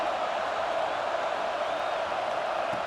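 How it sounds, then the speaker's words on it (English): A home stadium crowd at a UCLA football game keeps up a steady, fairly distant roar of cheering, an unbroken wash of noise with no distinct individual shouts. "It's early, but this crowd is fired up. Listen to this noise here."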